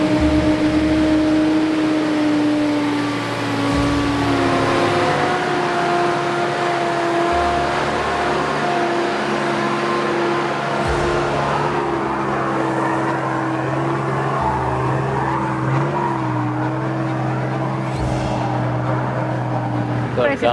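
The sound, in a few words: 4WD driving up steep rutted off-road track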